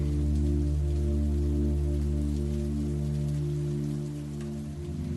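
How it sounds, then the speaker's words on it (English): Rain falls steadily at night over a quiet small town with wet pavement, a dense, even hiss layered over a low sustained hum that eases slightly near the end. "Only the sound of rain."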